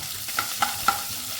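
Chopped green chillies sizzle in oil over a medium flame with curry leaves, a soft continuous fry broken by three sharp spoon clicks against the pan as they are stirred.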